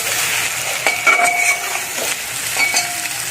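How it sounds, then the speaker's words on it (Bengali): Chili, coriander, cumin and turmeric powders sauté in a hot pan for an egg and chana dal curry, a steady sizzle with scraping stirs and a few light utensil clinks against the pan. "লঙ্কা গুঁড়ো, 1/2 চামচ ধনে গুঁড়া, 1/2 চামচ জিরা গুঁড়া, সব দিয়ে আমি এটা কষে নেব"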